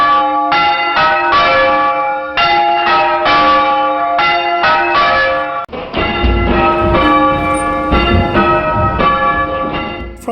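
Church bells of St James Church, Stirchley, three old bells hung in a wooden frame, ring loudly and close in repeating rounds, with a brief break midway before the peal resumes.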